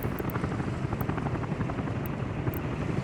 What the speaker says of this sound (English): Fucking helicopter up there.